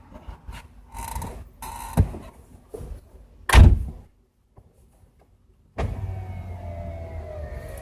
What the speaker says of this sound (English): Roll the window up so it's not as loud.